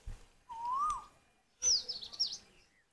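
An Asian koel calls from a flowering tree in fresh air just after rain: first a single clear rising whistled note, then, after a pause, a louder, higher run of sharp repeated notes over a quiet background.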